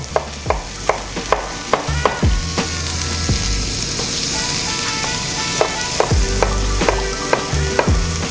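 Chopped onion dropped into a hot pan of frying carrots and root vegetables for a steak hash sizzles steadily, with sharp knocks of a utensil stirring and scraping at irregular intervals, close and fairly loud.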